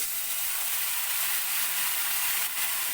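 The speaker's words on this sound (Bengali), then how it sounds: "মশলাটা যাতে না পুড়ে যায় তার জন্য অল্প জল আমি এতে দিয়ে দিচ্ছি" Spice paste of ginger, red chilli powder and salt frying in a pan gives a steady, close, hissing sizzle after a little water is added, with no talking.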